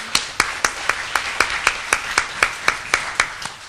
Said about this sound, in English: yes, let's give that an applause